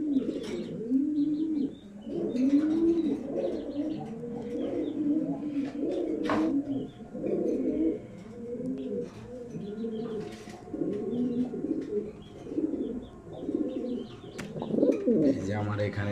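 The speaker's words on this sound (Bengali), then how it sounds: "আমার পছন্দের একটা কবুতর" A pair of pigeons, a female and a male together, coo steadily in low rolling phrases throughout, close and fairly loud, with faint chirps above.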